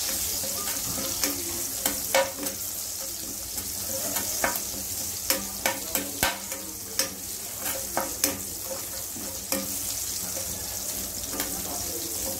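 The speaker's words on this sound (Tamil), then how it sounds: "நல்லா அந்த எண்ணெயிலே வதங்கட்டும் பச்சை மிளகாய்" Green chillies sizzle steadily in oil in a pan while a utensil stirs, with sharp scraping clicks scattered throughout.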